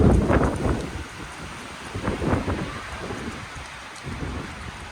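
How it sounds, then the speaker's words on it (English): Strong gusty wind blows outdoors on a wild day, buffeting the microphone in rough bursts, loud at the start and swelling again midway, with no talk. "You can see how windy it is."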